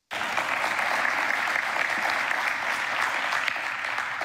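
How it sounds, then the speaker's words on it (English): Steady applause from a church audience fills the space, dense and even throughout with no pauses, a full room of hands clapping for a pastor's wife. "Come on, y'all clap it up for her."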